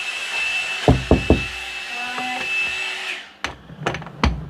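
Three quick knocks, then after a pause several more sharp raps, fairly close, over a steady background hum.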